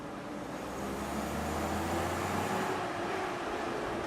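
A 1982 Toyota Land Cruiser, weighing roughly 3,200 to 3,400 pounds, drives in second gear around a park, with a steady low engine drone and road rumble heard from inside the cab, loud and continuous.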